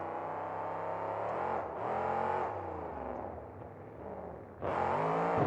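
A monster truck engine at a 2003 New Orleans monster truck show revs loudly and steadily as the truck attempts a sky wheelie, with surging bursts near the start and a sharp rise near the end, alone without talk.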